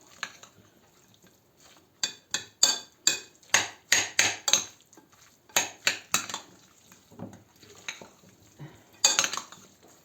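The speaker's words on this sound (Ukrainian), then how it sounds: "І так вимішаємо" A spoon stirs a beetroot and herring salad with onion in a bowl, sending out quick bursts of clinks and scrapes in an uneven rhythm, loud and close, with short pauses between strokes.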